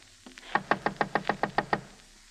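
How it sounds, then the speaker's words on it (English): Knocking on a door in an old rooming house with a rickety lock, a quick run of about ten close, evenly spaced raps on wood, alone in an otherwise quiet room. "found the door, and knocked."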